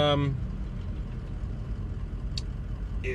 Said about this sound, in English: driving through some traffic here, so bear with me